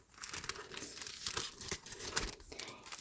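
Paper surprise bags being handled and crinkled, with steady close rustling and crackling across the whole span and no talk over it.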